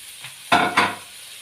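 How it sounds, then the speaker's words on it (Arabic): Grated onion seasoned with salt and black pepper drops into a hot frying pan with two quick loud sizzles, then fades to a quieter hiss. "وبعدين ننزل بالبصلايه اللي احنا ايه ضربناها في الكبه ودعكناها كويس جدا بالملح والفلفل الاسمر"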